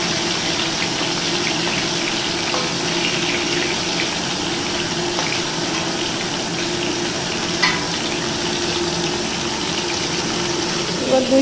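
Small pieces of fish fry in hot oil in a pan, giving a steady, close sizzle that runs unbroken for about eleven seconds, with faint voices underneath.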